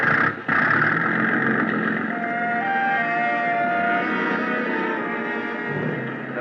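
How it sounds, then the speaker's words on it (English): A boat's gas engine drones steadily at close range with a low, even rumble and a faint whine, running continuously after a brief sharp dip at the start. "The big gas engine took over where the wind dropped us, and Captain Granger stood at his wheel"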